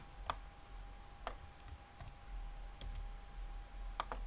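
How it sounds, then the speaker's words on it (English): Sparse keystrokes on a computer keyboard, soft irregular clicks in small clusters, quiet and close over faint background hum. "let me just rather type here"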